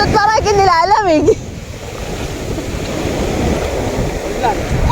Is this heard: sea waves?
yes